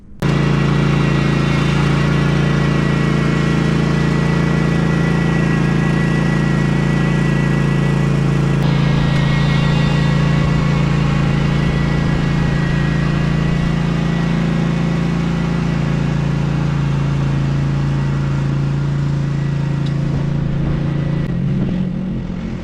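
A Cub Cadet lawn tractor tows a Red Rock plug aerator, its engine running as a loud, steady, close drone with a strong low hum that continues unbroken throughout, with no talk.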